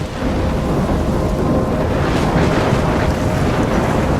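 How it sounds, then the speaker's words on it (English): A thunderstorm in the Life is Strange video game: a steady roar of heavy rain and gusting wind with low rolling thunder, loud and unbroken throughout, with no voices. "I'm trapped in a storm?"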